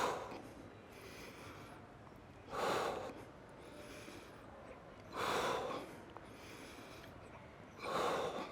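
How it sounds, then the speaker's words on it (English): Three heavy, forceful breaths burst out at regular intervals between quieter stretches of panting, close and alone, from someone doing squats holding a water bag during an outdoor workout in Barcelona. "inhale down, exhale up."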